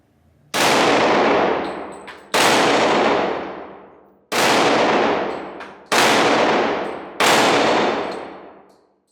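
A Glock pistol firing .357 SIG rounds at steel flipping plates outdoors: five loud, sharp shots, each followed by a long ringing decay, spaced irregularly about one and a half to two seconds apart, with no talk.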